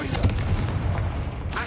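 A dense, booming spell blast from the video game Hogwarts Legacy fills the moment with rumbling low-end impact and crackling debris, loud and continuous for under two seconds.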